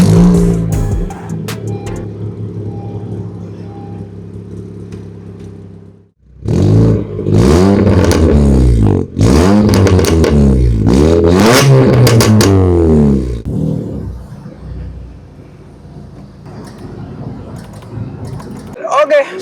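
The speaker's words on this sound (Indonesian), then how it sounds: "sekarang kita lagi pengen dengar suaranya si Jazz GK5 ini pakai knalpot full sistemnya dari Rocket Plus exhaust" A Honda Jazz GK5 engine roars loudly through a deep Rocket Plus full-system aftermarket exhaust, revving up and down in several swells, with a pause before the revs build again.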